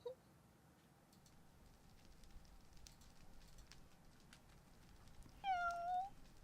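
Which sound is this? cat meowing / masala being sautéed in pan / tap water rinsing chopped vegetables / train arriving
cat meowing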